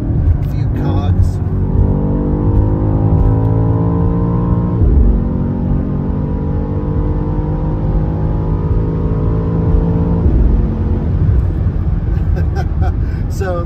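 A BMW with a V8 drops several gears at speed, each downshift blipping the revs before the engine pulls again in rising, layered harmonic sweeps, loud and close from inside the cabin.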